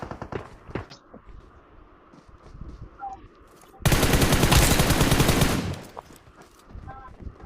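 Automatic gunfire in a video game: a loud, sustained burst of rapid shots lasting about two seconds, preceded by quieter game noises and some faint talk from players.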